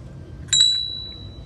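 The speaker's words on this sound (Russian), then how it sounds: "Колокольчик такой." A small decorative bell is struck once and rings out with a clear, high metallic tone that fades slowly over about a second, close and alone in a quiet room.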